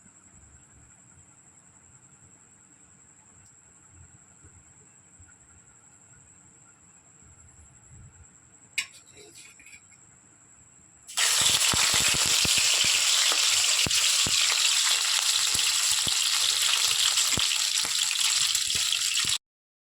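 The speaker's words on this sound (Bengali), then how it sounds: "কড়াটা আস্তে আস্তে গরম হলে আমি কিন্তু মাছগুলো হালকা হালকা করে ভেজে নেব" Fish fries in a wok of white oil and ghee: a quiet hum gives way after a sharp clatter to a loud, dense, steady sizzle that continues to the end.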